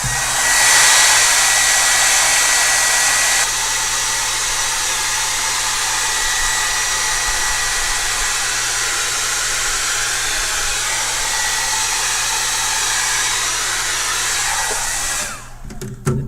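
A hair dryer blows on pastel work in an art journal, a loud steady whirring roar held for about fifteen seconds before it cuts off abruptly at the end.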